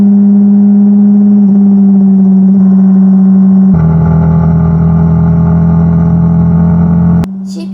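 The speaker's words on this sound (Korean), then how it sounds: "배기음 먼저 들려드릴게요" Honda CBR650R four-cylinder sport bike exhaust idling with a smooth, steady drone, then stepping up to a held higher rev for several seconds before dropping back, loud and close with no talking.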